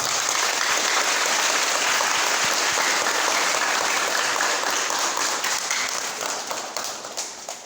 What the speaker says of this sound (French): Applaudissez pour votre succès d'abord.